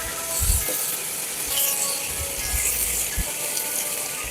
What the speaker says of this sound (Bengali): তেল মাখানো চিকেনগুলোকে আমি এই গরম ফ্রাই প্যানে ছেড়ে দিচ্ছি